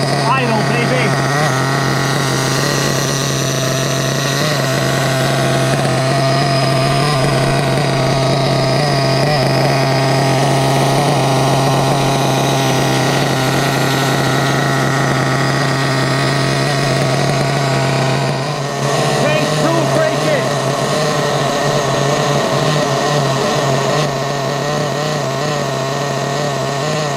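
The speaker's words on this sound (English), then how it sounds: "That is what you call a good, nice idle, baby." Dynamite .28 nitro engine in a Losi LST RC truck after an engine swap, idling loud and steady for the whole stretch with a constant buzzing drone and slight wavering.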